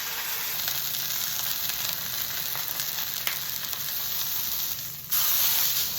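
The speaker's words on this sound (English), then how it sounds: "I put the steak in the pan" Steak sizzles in a frying pan with a constant, close, hissing crackle that jumps louder for the final second.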